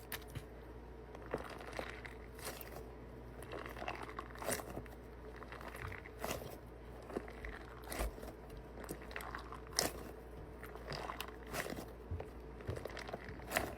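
A homemade crunchy squishy is squeezed close to the microphone, giving soft crackles and crunches at irregular moments over a faint background hush. No one speaks.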